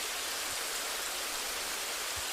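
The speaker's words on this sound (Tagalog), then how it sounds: "Ayan lakas ng ulan kita nyo yan" Heavy rain pours steadily on a solo motorcycle ride in Infanta, Quezon, a dense, even hiss filling the whole moment with a couple of faint low thumps and no voices.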